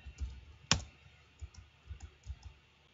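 A few quiet key clicks sound on a computer keyboard as a router command is typed, with one sharper tap standing out among soft scattered presses.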